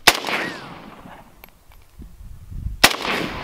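Two powerful weapon shots ring out at a target, one at the start and one near the end, each a sharp, loud crack with a fading echo, separated by quiet ambience.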